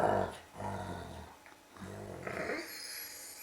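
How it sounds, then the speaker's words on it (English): Dogs playing together, rough low growls and grumbling snarls coming in short bursts close by, with a few breathy huffs between them. "The dogs are playing."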